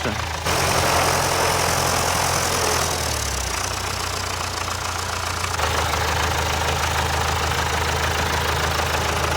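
An MTZ-80 tractor cultivating a field for soybean sowing, its engine producing a loud, steady low drone with a rough knocking texture that shifts slightly in pitch early on.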